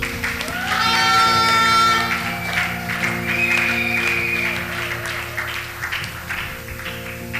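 A church congregation applauds during a wedding blessing, a sustained wash of clapping from a crowd mixed with sustained musical tones and voices, loud and steady before tapering slightly toward the end.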